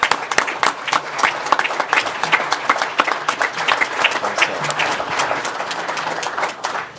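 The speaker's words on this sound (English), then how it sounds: "I think everybody should give a round of applause to our chairman." Applause for the chairman at a Port Authority board meeting, a room full of people clapping in a dense, steady stream, loud and sustained for the whole stretch.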